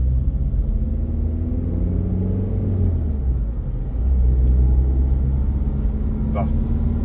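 Steady low road rumble and engine drone fill the cabin of a Volkswagen Polo Cross while driving, continuous and fairly loud throughout, with a brief faint click near the end and no clear talk over it.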